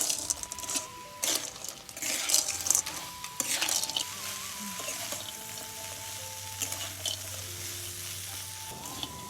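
Pasta and boiled vegetables are stirred in a pan, with sizzling and scraping of a utensil against the metal, continuous and close, with a steady low hum underneath.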